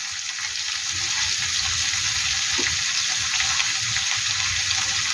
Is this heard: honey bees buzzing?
no